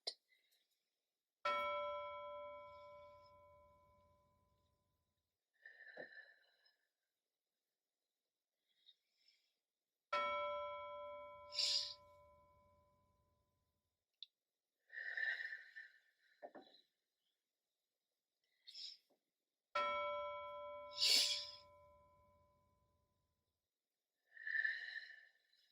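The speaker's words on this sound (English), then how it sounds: "All you have to do is listen for my bell." A bell chimes three times at even intervals during a guided breathing exercise, each clear ringing tone slowly fading into silence, with soft breathing sounds and brief talk between strikes.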